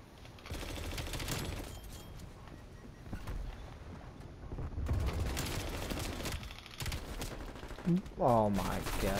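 Repeated bursts of automatic gunfire in Call of Duty Black Ops Cold War, rattling volleys and scattered shots that carry on throughout at moderate loudness, with a voice speaking briefly near the end.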